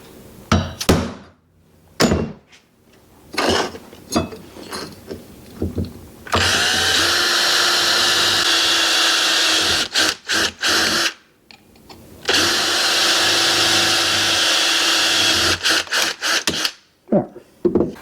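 A power drill bores mounting holes for RV window shades, two long steady whining runs of several seconds each, preceded and separated by sharp taps and handling knocks close by.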